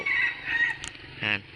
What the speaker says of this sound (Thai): ไก่ก็ยังขันอยู่